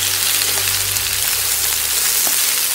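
Celery stir-fried in a hot wok for Sichuan five spice chicken, a loud continuous sizzle with a low rumble of the flame beneath, steady throughout.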